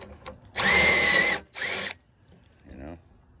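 A power drill drives screws into wood while building RV trailer kitchen cabinets, with two sharp whirring bursts, the first longer, followed by a faint ratcheting spin-down.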